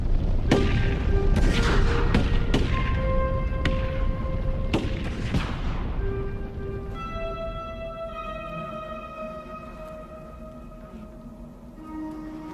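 Sharps rifle shots fired by buffalo hunters during a slaughter on the plains: several sharp, loud booming reports in the first half, followed by a sustained reverberant ringing that fades slowly.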